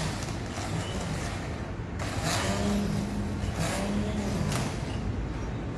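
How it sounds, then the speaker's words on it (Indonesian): A food processor grinds roasted candlenuts with a steady, muffled motor whir and a rough churning texture, moderately loud and continuous throughout. "Kita haluskan dengan menggunakan food processor."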